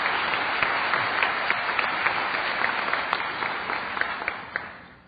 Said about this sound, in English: So I just wanted to give you all another round of applause.